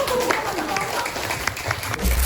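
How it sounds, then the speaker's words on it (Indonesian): An audience at a time-management motivational seminar bursts into applause, brisk clapping mixed with voices calling out, ending in a louder low thump. "Oke, tepuk tangan dulu dong"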